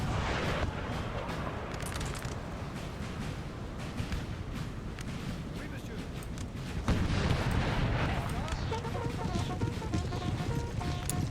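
Napoleonic musket volleys and artillery rumble in a Napoleon Total War battle, heard as dense, continuous distant crackling gunfire with occasional heavier booms, loud but blurred together.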